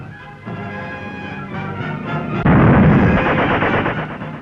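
German warships bombard Westerplatte, the Polish port outside Danzig, with naval artillery, heard on an old 1940 film soundtrack as a steady roar of gunfire that swells louder halfway through.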